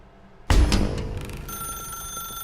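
A telephone rings in the video game The Stanley Parable, a sudden loud bell-like burst followed by a sustained ringing tone that carries on steadily, with no talk over it.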